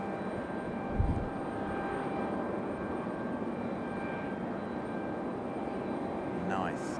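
A United airliner touches down on landing at Raleigh-Durham, heard as a faint, distant jet rumble with a brief low thump early on, under a soft background murmur.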